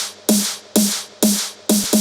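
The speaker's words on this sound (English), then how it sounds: "Let's start from the snares." First snare layer of an electronic song build-up: four crisp, bright snare hits evenly spaced about half a second apart, each with a tonal low ring underneath, steady and close with no voices.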